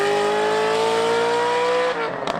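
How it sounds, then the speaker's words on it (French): A racing car engine revving hard at a steady high pitch that climbs slightly, then drops off abruptly near the end, loud and close with no voices. "un bruit de moteur entendu depuis une fenêtre ouverte"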